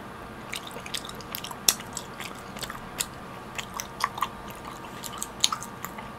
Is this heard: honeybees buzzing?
no